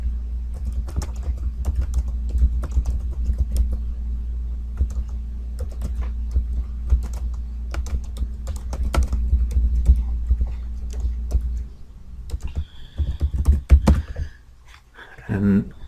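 Fingers type a comment on a computer keyboard in Google Classroom, a steady close run of quick light key clicks over a low hum, turning sparser near the end with a few louder clacks.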